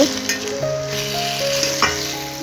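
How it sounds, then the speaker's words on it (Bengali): Coriander leaves stirred into a dish frying in a pan, giving a steady close sizzle with soft scraping stir strokes throughout, without talk. "আর 2-1 মিনিট একটু নাড়াচাড়া করে নেব"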